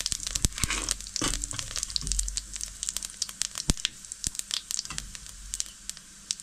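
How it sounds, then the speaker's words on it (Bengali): Whole cumin seeds sizzle and crackle in hot oil in a pan, with dense, sharp popping spread across the whole stretch. "এবার দিয়ে দিলাম গোটা জিরে"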